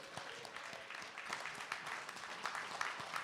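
A church audience claps steadily for Pastor Charlie Dates at an event on rescuing children from violence, with the sound distant and faint and no talking over it.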